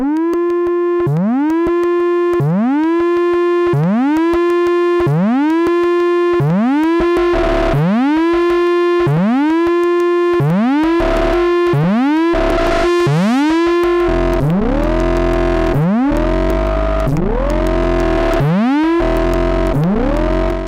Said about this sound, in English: Let's turn up the first distortion.